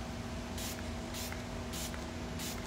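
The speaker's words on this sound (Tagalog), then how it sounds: "Okay, magsaspray tayo first." A favorite spray product is misted in four short, evenly spaced bursts, each a brief bright hiss over a steady background hum.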